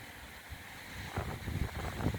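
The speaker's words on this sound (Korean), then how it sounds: "바람 또한 옆바람 상당히 옆바람이 셉니다" Strong crosswind gusting across a rocky Jeju shore during a spring hirasuzuki lure-fishing outing, a steady low rumble with buffeting that builds and thickens toward the end.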